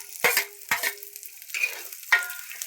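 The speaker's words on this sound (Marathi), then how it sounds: "चांगलं तेलात फ्राय होऊ द्यायचा." Onion fries in oil for dried fish chutney, a faint sizzle broken by a few scraping stirs of a spoon against the pan, with no talk.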